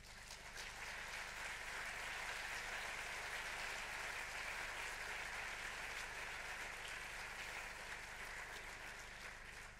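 At the opening ceremony of the FIFF 2016 film festival, an audience applauds steadily as two guests are invited onto the stage, a continuous, even wash of many hands clapping in a large hall, fairly distant and sustained.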